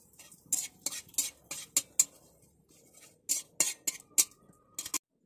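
Metal spatula scraping and clanking in a wok as oil is spread around for a home-style desi chicken curry, a dozen sharp uneven strokes in bursts, close and fairly loud, with no voices.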